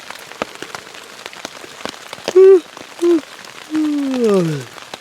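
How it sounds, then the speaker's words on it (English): Rain patters steadily on a tent during an overnight camp with military surplus gear, a dense close crackle of drops, joined midway by a few brief tonal whines. "Alright, well, I'll just let you guys listen to the rain."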